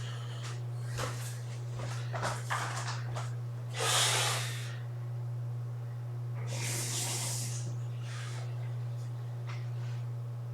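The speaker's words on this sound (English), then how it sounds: "just gonna blow my nose." A person outdoors among shady trees blows their nose, with two loud, breathy honking blasts, the second longer, plus smaller sniffs, over a steady low hum.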